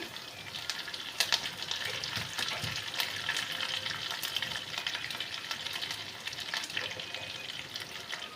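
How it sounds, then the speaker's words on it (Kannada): Curry leaves with dried and green chillies fry in hot oil in a pan, a soft, continuous crackling sizzle with scattered pops and faint stirring, heard alone and fairly quiet. "ಕರಿಬೇವು ಹಾಕಿದ ನಂತರ 1-2 ಒಣಮೆಣಸಿನ್ಕಾಯಿ, 1-2 ಹಸಿರು ಮೆಣಸಿನ್ಕಾಯಿ ಹಾಕ್ಬಿಟ್ಟು ಫ್ರೈ ಮಾಡ್ಕೊಳ್ಳಿ."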